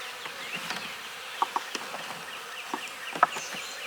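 Honey bees buzz around an open hive as it is gently closed, a steady close hum with scattered sharper buzzes of individual bees passing near, no talking.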